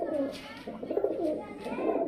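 Giribaz pigeons coo in soft, repeated throaty rolls close by, several overlapping calls over about two seconds with no talk.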